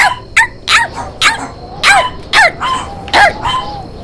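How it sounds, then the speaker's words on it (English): A dog barks and yelps repeatedly in short, sharp bursts, close and loud, with high squealing whines mixed between the barks. "He whirled around and around, barking and squealing."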